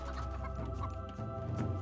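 Chickens clucking in quick, scattered bursts in the game Age of Mythology, fairly faint and heard over a low background rumble, with no talking.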